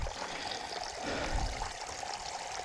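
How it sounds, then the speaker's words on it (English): Water from the misty hills flowing steadily as a broad, continuous rush and trickle, a stream fed by runoff, fairly faint and even throughout with no voices. "there's plenty of water coming down off the hills"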